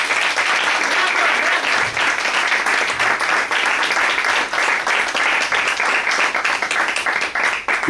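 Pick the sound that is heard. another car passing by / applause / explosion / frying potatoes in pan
applause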